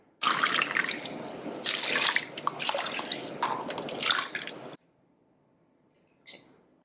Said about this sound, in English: add around 10 cups of water.